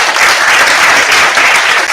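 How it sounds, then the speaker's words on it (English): An audience at a research dialogue session applauds, dense sustained clapping from a full room, loud and even throughout with no talk over it. "Let's give them a round of applause."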